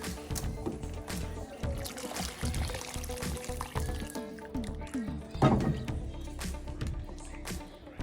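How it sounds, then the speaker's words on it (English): Water is poured into a cooking pot of browned beef for Vietnamese beef stew, giving a continuous splashing gurgle up close that swells briefly near the end. "And you want to fill up your pot with water."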